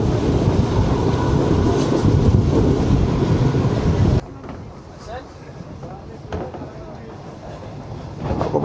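The New Shalimar Express passenger train runs on its morning service from Lahore to Multan, with a loud, dense rumble of rolling wheels that suddenly drops to a quieter clatter after about four seconds and a faint voice beneath.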